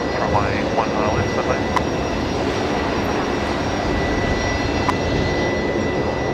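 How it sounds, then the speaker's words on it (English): A Fokker 70 jet waits at Brisbane Airport at night, its engines giving a steady, moderately loud rumble with a faint whine, and brief higher tones sound over it. "I can hear a Fokker. Where's that? Oh, it's this Fokker 70 over here."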